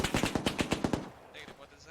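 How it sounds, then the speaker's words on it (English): M2 heavy machine gun in the video game Arma 3 firing a rapid burst of about eight shots, followed by fainter distant gunfire. "they're just suppressing us with the M2 machine gun while we move up. 4 to 5 round bursts"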